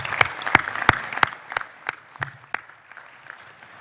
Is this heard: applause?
yes